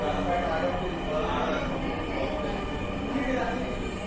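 A metro rail train at Pallabi station in Dhaka during heavy rain, its steady rumble and rail noise filling the platform continuously, close and loud, with a faint voice in the background.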